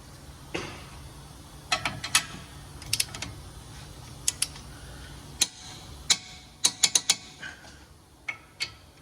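Torque wrench tightening Honda Accord front brake parts to 80 foot-pounds, producing a series of sharp, close ratcheting clicks in irregular bursts, ending in a quick cluster of clicks.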